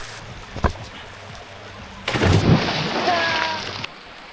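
Heavy rain with rolling thunder during a river dive, a sharp crack early on, then a loud steady downpour hissing for a couple of seconds before easing, with faint voices underneath.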